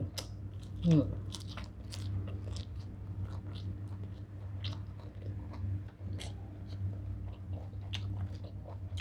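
Close, crunchy chewing of a Thai raw freshwater shrimp salad with long beans and fresh herbs, steady wet bites and crunches, with a voice mumbling over it.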